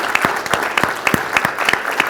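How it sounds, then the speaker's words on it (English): Audience applause fills a lecture hall at the end of an engineering speaker series talk, a dense, even patter of many hands clapping with a few sharper individual claps standing out. "let's give a round of applause"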